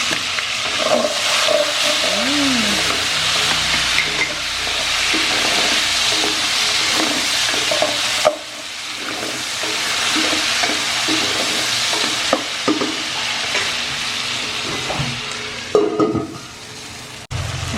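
Garlic, onion and tomato sautéed together in a pan give a steady, close frying sizzle with repeated stirring scrapes and small knocks throughout, dipping briefly midway.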